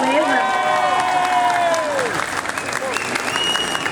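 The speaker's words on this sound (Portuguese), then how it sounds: "Queria pedir pro pessoal uma salva de palmas," Applause and some cheering from the audience at an Anime Friends 2022 panel on Crunchyroll dubbing of Jujutsu Kaisen, a dense, steady wash of clapping while voices and music-like tones carry over the top.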